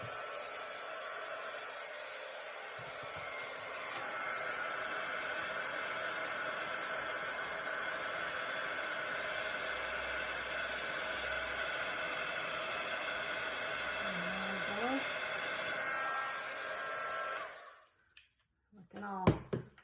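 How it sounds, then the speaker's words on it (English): An embossing heat gun blows steadily while making a card, a loud, even, breathy roar that runs for about seventeen seconds before cutting off abruptly, followed by a few quiet knocks. "we'll take the embossing heat gun here and get that ready"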